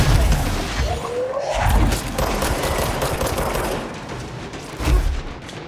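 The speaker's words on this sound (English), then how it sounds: "Who is shooting at me?" Enemy gunfire aimed at the player in the video game Control, with loud bursts of shots and booms at the start, middle and end over a constant, busy combat din.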